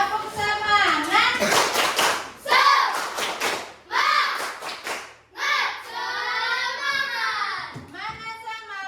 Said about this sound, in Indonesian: kita tepuk semangat dulu kayak kemarin